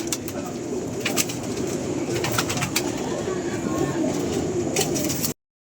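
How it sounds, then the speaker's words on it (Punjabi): A green pigeon coos on a rooftop, a steady low rolling call running close and fairly loud, with a few light sharp clicks from the surroundings before it cuts off. "ਇਹ ਉਹੀ ਕੈਟਾਗਰੀ ਦਾ ਹਰਾ ਰੰਗ ਵਾਲਾ ਹਾਂ, ਹਰੇ ਰੰਗ ਵਾਲਾ ਕਬੂਤਰ"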